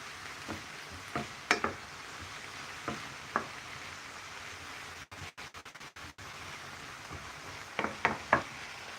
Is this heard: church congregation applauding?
no